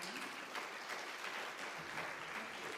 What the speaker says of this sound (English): Maybe we can give one more round of applause for Professor Khan.